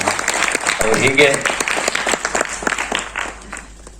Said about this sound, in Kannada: ದೊಡ್ಡ ಚಪ್ಪಾಳೆ ನೀವೆಲ್ಲ ಕೊಡಬಹುದು ಅಂತ ಕಾಣಿಸುತ್ತೆ.